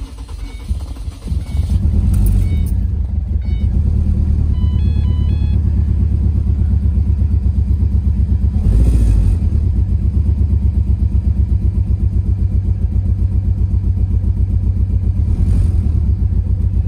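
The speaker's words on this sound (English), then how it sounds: "It might not gonna crank easily because since we drained the gas, you will get a hard time to start." Ford Transit Connect engine running after cranking following a drained fuel tank, a steady loud low rumble with uneven pulsing, a rough idle that continues alone throughout.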